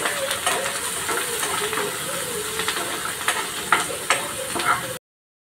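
Finely chopped onion, curry leaves and garlic sizzle in a hot pan for a Marathi okra and potato stir-fry, a steady close hiss with small crackles and spatters, cutting off abruptly near the end, with no talking.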